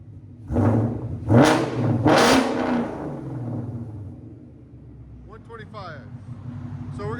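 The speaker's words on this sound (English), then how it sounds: "Go ahead and rev it." A 2021 Ford Mustang GT 5.0L V8 on stock exhaust, three loud, close revs in quick succession settling into a low burbling idle, with a short burst of talk near the end.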